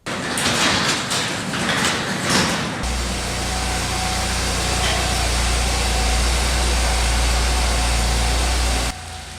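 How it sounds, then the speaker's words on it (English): The engine of a 2015 BMW X3 F25 idles to warm up, a steady low hum that starts after a door-like rattle and runs evenly for several seconds before cutting off. "I've left this car sit for a little bit just at idle to warm up the engine"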